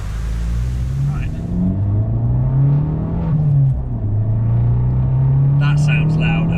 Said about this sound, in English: I was doing the big throttle blips on the downshifts